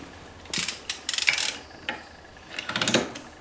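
Ratchet clicks while tightening the variator nut on a scooter exhaust install, Nitro/Aerox/Ovetto type, in several quick bursts of rapid metallic clicking, close and clear with quiet gaps between.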